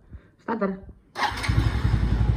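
A Suzuki Shooter motorcycle's engine cranks and catches, then settles into a close, putting idle with a rapid pulsing beat after someone speaks briefly.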